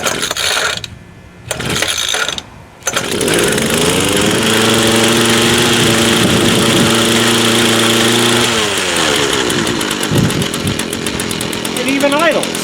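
Small gas engine on a hedge trimmer for cutting back a bush, sputtering after a choked start, then settling into a loud, close buzzing idle with brief revs, while a person talks over it.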